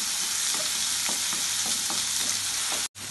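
Onions frying for kadhamba chutney, a dense continuous sizzle with repeated scraping stir strokes roughly every half second, close and steady, then a brief cutoff near the end.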